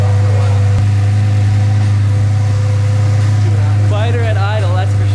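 A rebuilt Lamborghini Gallardo fitted with a modified exhaust idles with a loud, steady low rumble. Someone talks over the engine throughout.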